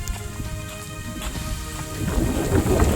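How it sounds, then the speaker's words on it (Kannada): Heavy rain pours steadily on the Kumara Parvatha mountain trek while thunder rumbles low beneath it, growing louder toward the end, with no talking. "ಮಳೆ ತುಂಬ ಜೋರ ಆಗ್ಬಿಟ್ಟಿದೆ."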